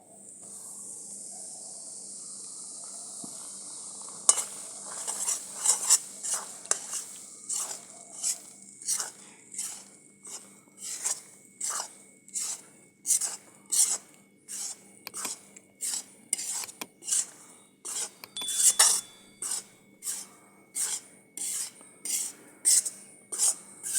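Gram flour goes into hot ghee for besan barfi and is stirred with a spoon in a pan: a soft sizzle, then steady rhythmic scraping strokes, fairly close and moderately loud, with no talking.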